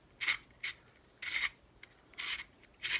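Threads scraping as the bottom cap of a lightsaber hilt is unscrewed, five or six short, faint rasping strokes in an uneven rhythm with quiet gaps between them.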